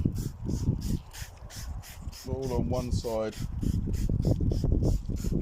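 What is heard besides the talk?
spraying quick detailer on car bonnet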